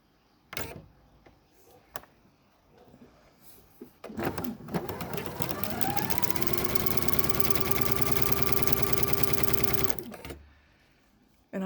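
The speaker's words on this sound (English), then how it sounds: "take them to the sewing machine to sew" Sewing machine stitching quilt block pieces a quarter inch from a center line, chain piecing: a steady, fast mechanical whir running continuously for several seconds after a few clicks and handling bumps.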